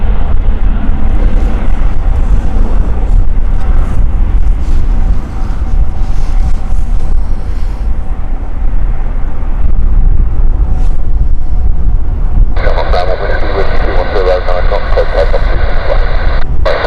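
An Aer Lingus airliner departing Gatwick Airport gives a continuous loud broad rumble under heavy wind noise, with a burst of radio-like chatter near the end.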